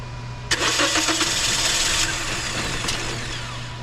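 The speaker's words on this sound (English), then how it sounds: "Let me try starting it again" Close starter cranking on a 2010 Toyota Corolla with a crank-no-start fault, a loud churning whir lasting about a second and a half, then a short second burst before it fades to a low hum.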